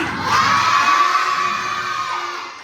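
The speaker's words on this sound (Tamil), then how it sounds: "எல்லாம் ஜெரிக்கு சத்தமா ஒரு பாய் சொல்லி அனுப்பிடலாமா?" A group of children shout goodbye together in one loud, drawn-out cheer that gradually fades.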